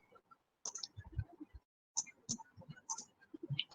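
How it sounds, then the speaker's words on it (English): Irregular keyboard clicks and taps picked up close by a microphone, coming in short bursts with a brief pause between. "I can listen to your keyboard."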